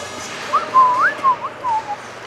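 A person whistling a tune at a JV sports game, a short clear melody of gliding, wavering notes, fairly close and loud over a faint background hum.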